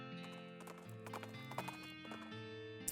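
Horse hooves clip-clopping in the West of Loathing video game, a steady rhythm of crisp taps over a sustained musical drone, with a louder hoof strike near the end.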